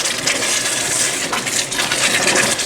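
Coconut raisin fudge being stirred constantly in a pan over a low flame, giving a steady, close scraping and sticky churning that runs unbroken throughout.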